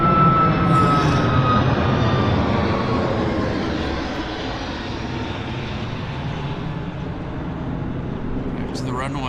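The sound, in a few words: Boeing 737 Max jet taking off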